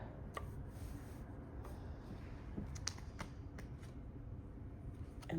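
A deck of tarot cards is shuffled by hand in soft, steady riffling, with a few sharper card snaps standing out over a low background hum.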